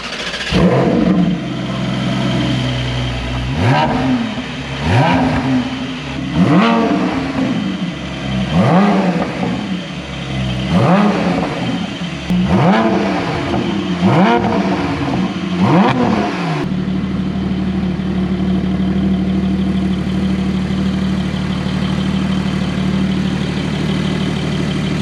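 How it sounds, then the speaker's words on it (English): A Porsche 718 GT4 engine with a titanium race exhaust cranks and fires, revving in repeated sharp bursts before settling into a steady, loud idle. "So now it's time to fire it up."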